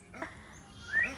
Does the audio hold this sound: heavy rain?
no